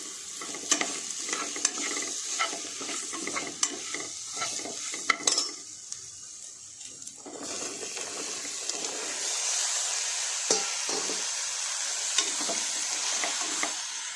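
Washed bottle gourd is stirred in a pan with sugar and turmeric, giving a steady sizzle broken by scraping and metallic clinks of a spoon against the pan, quieter for a stretch in the middle before the frying hiss swells again.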